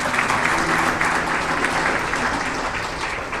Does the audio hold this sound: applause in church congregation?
yes